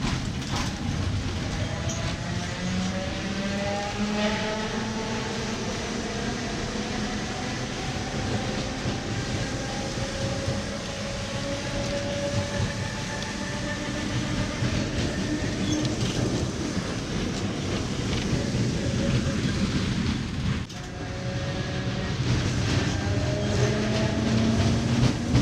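A vintage tram rumbles along city streets in Porto, with steady wheel noise, rail clatter and long squealing wheel tones that rise and fall, building louder near the end.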